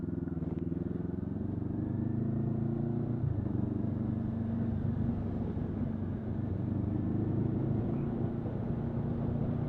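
Honda CRF motorcycle riding along a road, heard as a steady droning engine note with continuous road and wind rumble, sustained and fairly loud throughout.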